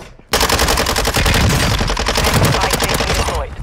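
Sustained automatic gunfire from the video game Warzone, a dense rapid stream of shots that runs nearly unbroken for several seconds, loud and close, with no talk over it.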